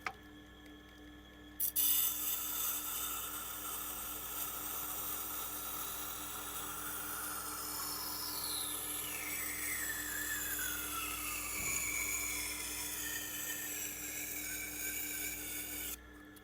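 Nitro V steel knife blade being sharpened on a Tormek Blackstone wheel, a steady continuous grinding rasp with whining tones that sweep downward, running unbroken and close for the whole stretch.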